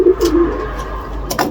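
Sprinter racing pigeons coo in a few soft, low throaty phrases, close by, with a brief rustle or flutter near the end.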